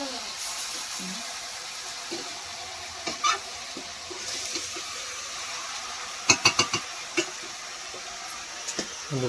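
Food sautéed (kosha) in a pan sizzles steadily and up close, punctuated by a quick burst of sharp metallic spatula clinks against the pan partway through.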